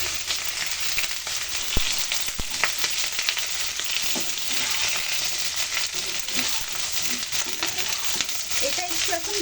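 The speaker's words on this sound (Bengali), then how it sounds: "কড়াইয়ের তেল গরম হয়ে গেছে। আমি তার উপরে দিয়ে দেবো গোটা জিরে, একটা শুকনো লঙ্কা এবং একটা তেজপাতা।" Whole cumin, a dried chili, a bay leaf and vegetables fry in hot oil in a kadai, a steady loud sizzle with occasional pops and stirring scrapes, continuous throughout with no talk.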